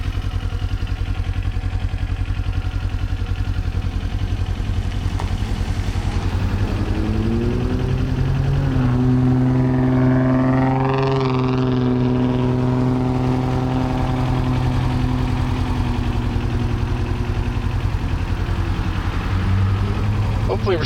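A motorcycle pulls away from a traffic light and accelerates, its engine revving upward through several rising gear pulls over a steady low rumble. The engine is loud and close, and traffic noise sits in the background.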